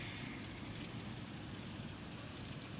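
Outdoor rainfall, a dense, steady wash of drops with a low rumbling undertone, constant and unbroken, with no voices.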